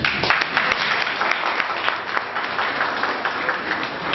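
Audience applause filling a university conference hall in Goma, dense sustained clapping from many hands at steady loudness throughout.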